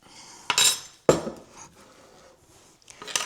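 A metal spoon clinks against a bowl or jar while acacia honey is added, two or three sharp bright chinks with soft scraping between them.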